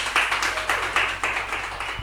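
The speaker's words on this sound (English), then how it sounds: "A round of applause for them." A small audience clapping for consolation prize winners at a youth entrepreneurship fair, close and fairly loud with individual claps audible in an uneven rhythm, no talking over it.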